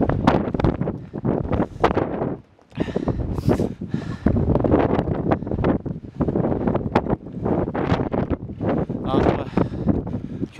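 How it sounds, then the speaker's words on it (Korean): Strong gusts of wind batter the microphone high on Hallasan mountain in Jeju during a winter hike, a loud, buffeting roar broken by a brief lull, with a voice speaking intermittently underneath. "바람이 진짜 무서울 정도로"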